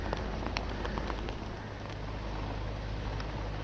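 Heavy monsoon rain in Mumbai pours as a steady, dense hiss, with a low rumble of traffic and scattered sharper drips and splashes throughout.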